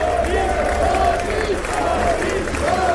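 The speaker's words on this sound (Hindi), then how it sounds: "तालियों का शोर उनके कद को बता रहा था" A large crowd in the US Congress keeps up continuous dense applause for Indian Prime Minister Modi. A voice talks over the steady clapping.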